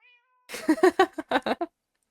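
A pet cat gives a run of several short, close meows in quick succession, loud and clear with nothing else around them, following a brief faint tone at the start.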